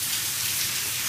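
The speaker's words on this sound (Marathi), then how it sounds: "पाऊस येतो" Steady rain pours down outside a house where a cow stands nearby, a dense continuous hiss of drops on surfaces, loud and close with no break.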